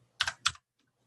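Two crisp clicks of a key on a computer keyboard in quick succession, the Enter key pressed close up in a quiet room and followed by silence.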